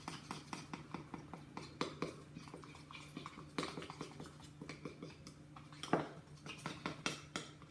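Spoons clink and tap steadily against a glass while stirring food colouring, a quiet run of small metallic ticks in an even rhythm.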